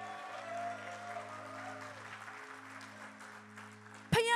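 A church congregation claps in praise during a sermon, a steady broadband patter of many hands over a low hum, ending with a sudden louder burst.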